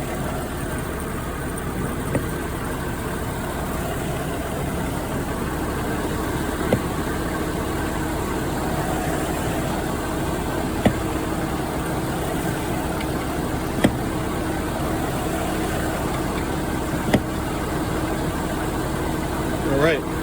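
A Mercedes 300E engine idles steadily throughout, a low continuous hum with faint recurring ticks and clicks over it and no voices.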